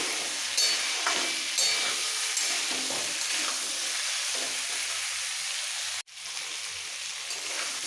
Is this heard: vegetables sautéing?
yes